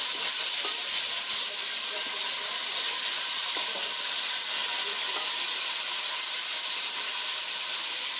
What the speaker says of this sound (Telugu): ఇప్పుడు టమాటా వేసుకున్నాం.